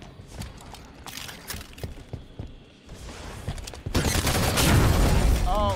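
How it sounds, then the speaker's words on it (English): Rapid bursts of gunfire from the video game Halo 5: Guardians, growing louder and denser toward the end in a busy firefight, mixed with other game effects. "I'm shooting at them."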